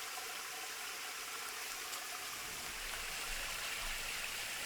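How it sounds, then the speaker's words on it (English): Bat meat rinsed under running water outdoors, a steady close trickle and splash of flowing water that continues evenly throughout, alone with no voices. "She washes them thoroughly in running water"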